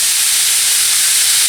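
Minced meat sizzles in a pan over high heat while being stirred and mashed, giving a loud, steady, close hiss with no break and no voices.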